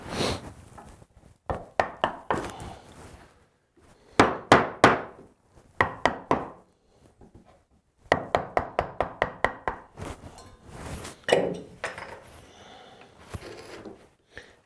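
Chisel and mallet chop out a rabbet in a wooden corner trim block, sharp woody knocks struck in quick clusters of three to six with brief pauses between, close and crisp, no talk.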